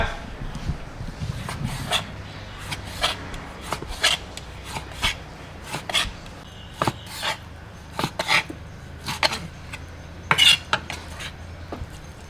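A knife chops pork belly repeatedly against a cutting board, irregular sharp knocks spaced a second or so apart over a quiet kitchen background.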